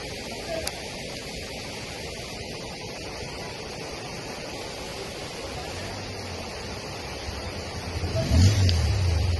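Floodwater flows strongly through a submerged market in Khammam with a steady low rushing wash throughout, then a louder surge of rumbling near the end.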